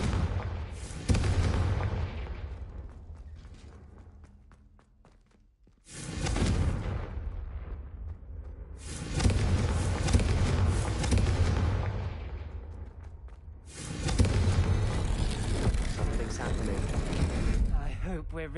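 Confringo spell explosions in Hogwarts Legacy: several loud booming blasts with rumbling tails, spaced apart, each swelling and fading slowly, with talk in between.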